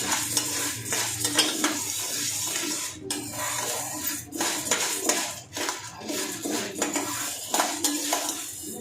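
Mung dal payasam being stirred in a pan with the heat turned off, with repeated scraping and knocking of a spoon against the metal, a light bubbling underneath, close and uneven, with no speech.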